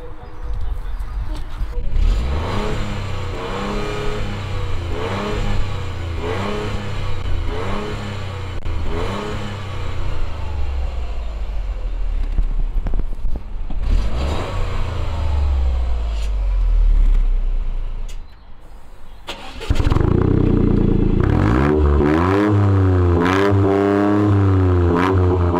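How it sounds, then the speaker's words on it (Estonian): A Toyota GR Yaris fitted with a Milltek exhaust revs repeatedly, its engine rising and falling in rhythmic bursts up close, then settling before a loud, sustained rev near the end. "Karli oma külge on nüüd kruvitud VKM-ist pärinev Milteki väljalase."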